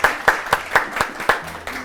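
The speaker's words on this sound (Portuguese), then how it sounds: "Uma salva de palmas!" Applause on a Brazilian talk show welcoming a guest, heard as a few distinct, rhythmic hand claps spaced about a quarter second apart, fairly close and moderately loud.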